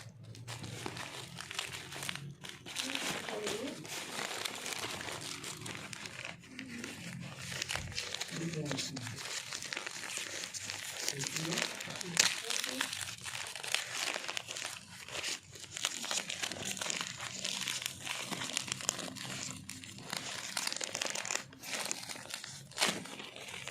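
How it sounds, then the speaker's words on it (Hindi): Packaging tape and wrapping are cut and torn open during an unboxing, making steady close crinkling, crackling and ripping sounds that run throughout while people talk. "कैंची से टेप काट दो।"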